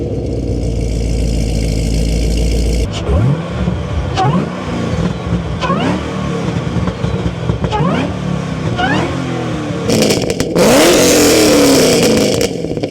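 A 5th-gen Chevrolet Camaro ZL1 idles with a steady low rumble, then pulls away and climbs through repeated rev sweeps as it shifts through gears, ending in a loud hard acceleration up close.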